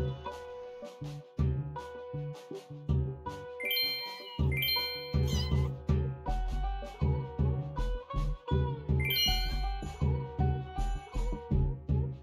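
Cats meowing in musical lines in the video game Shy Cats Hidden Orchestra, with pitched meows and bright chiming tinkles layered over a rhythmic, looping tune, loud and steady throughout.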